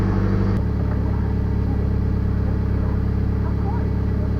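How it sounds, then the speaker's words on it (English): The blower heater fan of a 2004 Toyota Camry kicks up abruptly and then runs as a steady, loud whirring drone with a constant low hum underneath. "turn on the blower heater."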